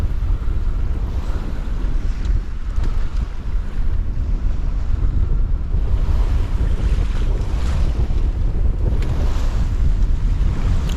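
A sailboat under a full main and a tiny genoa pushes through a large ocean swell off New Zealand: steady, loud rush of wind buffeting the microphone over continuous surging water and waves, with no talk.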